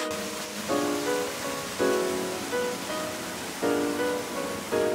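Steady roar of rushing water from a creek waterfall in Limekiln State Park, Big Sur, fills the scene, a broad continuous wash with faint tonal sounds drifting in and out above it.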